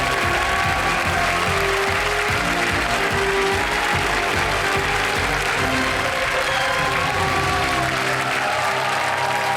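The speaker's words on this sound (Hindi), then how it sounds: "कम तालियां बज जाए इनके लिए." Studio audience on a televised quiz show applauds a contestant after a correct answer, a dense, loud, steady wash of clapping with a tonal music bed underneath, sustained throughout.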